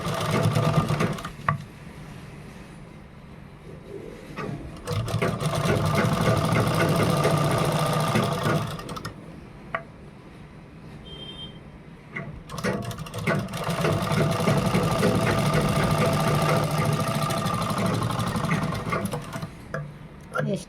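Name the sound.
sewing machine stitching a blouse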